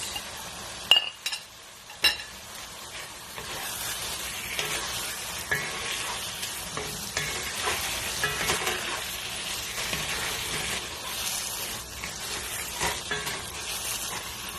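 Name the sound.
stirring and frying potatoes and peas in a pan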